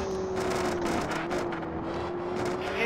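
A Porsche 911 rally car runs a stage in a rally video game, its engine droning steadily and near with small shifts in pitch and gravelly road noise throughout.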